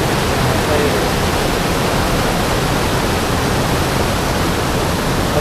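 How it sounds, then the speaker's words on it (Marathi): Loud, steady roar of a flooded stream in Rajapur, Konkan, during the monsoon fills the whole clip, a dense broadband wash with no breaks, like a swollen river surging close by. "पाण्याचा आवाज बघा"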